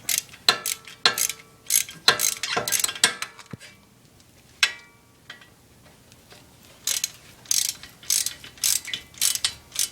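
A ratchet with a 12-point socket loosens the hub assembly bolts on a Jeep Wrangler axle, giving close, crisp bursts of rapid clicking that stop and start in uneven strokes, with no talk.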